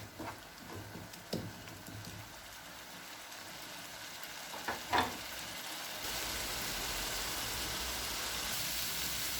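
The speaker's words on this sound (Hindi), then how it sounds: "आप पेस्ट को 3 से 4 मिनट के लिए भून लेंगे।" A spice paste for Punjabi chole fries in a pan, with faint clinks and scrapes of stirring early on, then a steady, soft sizzle that settles into a continuous hiss.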